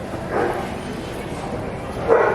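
A puppy barks twice, one short yip near the start and another near the end, at moderate distance over steady background noise.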